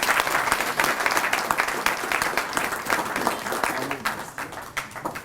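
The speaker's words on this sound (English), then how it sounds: "So please give him a round of applause for Reverend Jim Liberatore" Audience applause at a spring church event as a reverend is welcomed to speak, a dense, steady burst of clapping from a crowd that fades slightly toward the end.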